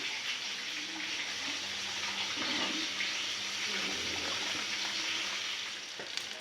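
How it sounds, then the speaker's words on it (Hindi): Rice is washed in water in a home kitchen, giving a steady, close sloshing and running-water wash with faint swirling splashes under a constant hiss. "तब तक चावल धो रही हूँ मैं।"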